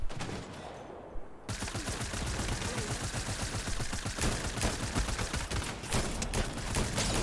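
Rapid video-game gunfire erupts after a brief quieter moment, then continues as a dense, sustained barrage of sharp shots for several seconds.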